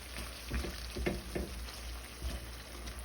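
Salmon frying in a pan on low heat for a crispy-skin Haitian dish, a faint steady sizzle with a few soft pops and crackles.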